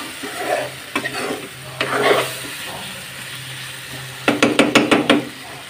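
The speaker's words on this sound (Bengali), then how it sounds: "আমি এর মধ্যে দিয়ে একটু কষিয়ে নিচ্ছি" Potatoes being stir-fried into an egg curry, with stirring and scraping in the pan over a low sizzle, a few separate strokes early on and then a quick run of rhythmic scrapes near the end.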